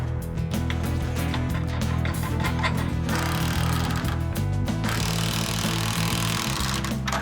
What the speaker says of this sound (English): Start drilling, then we can joist hanger this thing